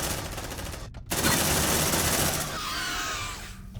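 Sustained automatic gunfire in the Aliens: Dark Descent video game rattles loud and continuous, briefly cutting out before resuming with a dense stream of rapid shots.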